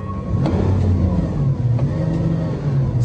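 A Lamborghini Aventador's engine runs up close with a deep, steady rumble and a rising rev toward the end, loud and continuous without speech.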